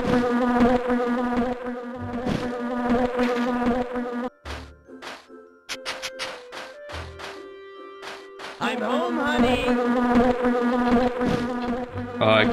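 Insistent buzzing of bees in a Grinch video game, broken up by game sound effects and brief musical tones, the drone dropping out midway before returning strong.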